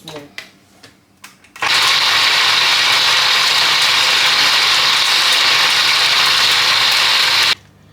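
After a few soft knocks and handling sounds, a loud electric blender roars to life, grinding beans steadily for about six seconds before cutting off abruptly.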